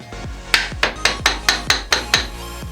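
Sharp repeated metallic taps, about eight evenly spaced strikes, from a Japanese wood chisel being driven behind ceramic tiles on a bathroom wall; close and crisp, with no talking.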